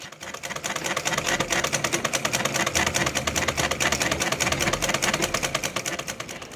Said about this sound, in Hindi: ड्रेस थोड़ा सा फट गया था इसलिए मैं सिलाई लगा रही थी